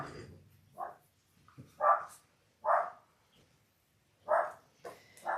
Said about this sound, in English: My dogs are now barking at the exterminator guy in the backyard